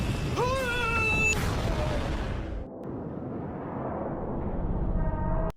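Explosions approaching in the film Poseidon Legacy: heavy, continuous booming rumble with a roaring explosive wash, a brief high whistling tone early on, then a steady roar until it cuts off abruptly.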